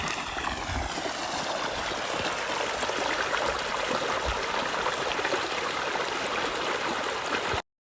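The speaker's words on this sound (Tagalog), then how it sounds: "The remote control pag magpatubig ng farm. Ayan na yung tubig." Irrigation water, switched on by remote control, flows across a farm plot in rural northern China, a steady rushing trickle and splash heard close and alone before cutting off abruptly.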